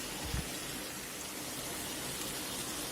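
Eggplant fry with pepper and cumin powder sizzling in a pan, a steady hiss like rain under a faint low thump near the start, with no talking.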